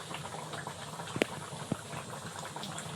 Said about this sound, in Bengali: আমার ঘুগনি ফুটে যাচ্ছে দেখো